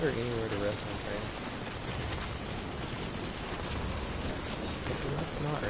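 Steady rain falls in the video game Death Stranding, a constant hiss of drops with faint rumbles. Someone talks briefly over it at the start and again near the end.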